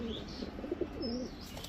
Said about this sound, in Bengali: এখন ইন্ডিয়ান কাজ করা একটা কবুতর দেখাবো